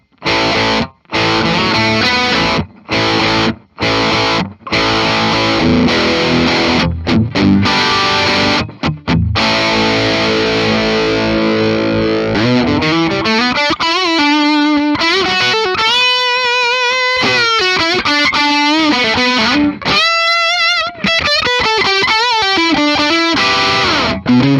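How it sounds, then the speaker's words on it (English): A 2008 Gibson Les Paul Super Custom plays loud, crunchy distorted electric guitar through an effects unit, opening with choppy stop-start chords and moving into sustained single-note lines and bends, with no voices. "It's got some nice crunchy tones to it."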